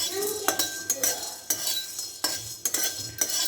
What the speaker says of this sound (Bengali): এবার এটাকে ড্রাই রোস্ট করে নেব।